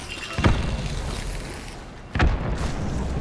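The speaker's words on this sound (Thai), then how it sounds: "ระเบิด" Two heavy booming grenade blasts in the video game Hunt: Showdown, the first near 0.4 seconds and a second stronger one just after two seconds, each leaving a low rumbling tail.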